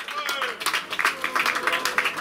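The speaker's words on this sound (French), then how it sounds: "On peut l'applaudir s'il vous plaît" An audience at a 2023 Tour du Bassin d'Arcachon ceremony applauds with a brisk burst of clapping, mixed with voices nearby.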